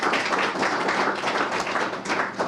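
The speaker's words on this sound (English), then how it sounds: "Let's give them a big round of applause for pulling together such a great event." Audience at a policy forum at the Rockefeller Institute of Government claps for the event staff, a dense, even round of many hands sustained from start to finish, fairly close and fairly loud, with no voices standing out.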